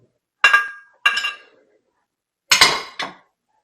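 Four sharp metallic clinks and clanks of cooked peppers being shifted from one metal baking pan to another, in two pairs with short ringing decays and silence between.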